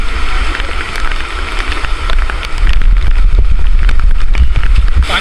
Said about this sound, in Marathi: आता आपण आलोय नानी वॉटरफॉल जवळ.